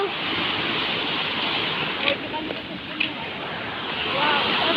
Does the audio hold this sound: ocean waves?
yes